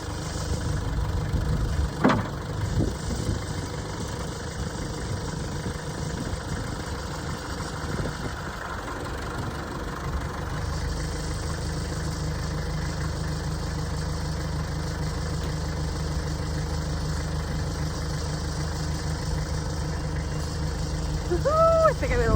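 A tractor engine idles steadily outdoors after a blizzard, a continuous low rumble that holds at a constant level throughout, with a couple of brief knocks near the start.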